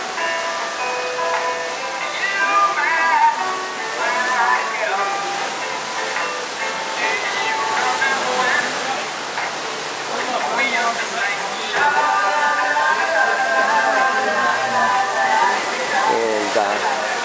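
Steady wind rush and breaking waves heard from the port side deck of the Statendam cruise ship on the open Pacific Ocean, a loud continuous roar with no pauses, joined by a speaking voice.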